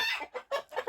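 Chickens cluck inside a poultry house, four or five short, close, loud clucks in quick succession with no talking.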